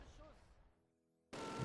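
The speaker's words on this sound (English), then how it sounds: "the mortar is actually firing" Mortar fire in the Close Combat: The Longest Day strategy game at Pointe du Hoc, a sudden loud broadband blast bursting in after a quieter stretch that carries faint speech and faint tonal game sounds.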